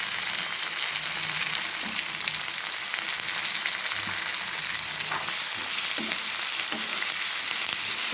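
Leafy greens fry in a pan with a loud, continuous sizzle, while a spoon stirs them with soft, occasional scrapes and taps.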